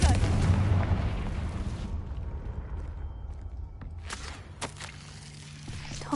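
Confringo blasting spell in Hogwarts Legacy, heard as a loud booming burst up front that fades into a rumbling tail, followed by quieter crackles, a few sharp impacts and faint footsteps.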